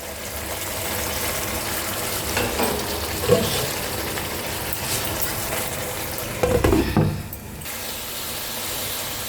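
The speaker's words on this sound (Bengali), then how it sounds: "ঢাকা খুলে খুলে মাঝে মাঝে নেড়ে দিচ্ছি, নাহলে তলায় লেগে যাবে।" Mutton curry frying in a pot, a steady sizzle with a couple of louder stirring scrapes against the pot bottom, with a low hum underneath.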